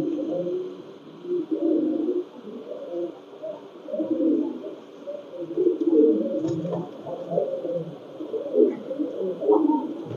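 A female Pakistani Teddy pigeon coos up close in repeated low, throaty bursts, one after another over a faint steady background hum.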